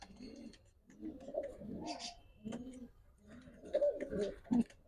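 Several pigeons, high flyers and racers, cooing close by in soft, throaty rolling calls, repeated in uneven bursts, with faint rustling in between.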